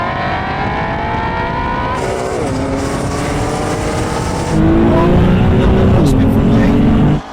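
BMW M4 CS and Shelby GT350 launching side by side in a drag race from a rolling start in second gear, loud close engine roar climbing in pitch through gear changes, with voices talking over it.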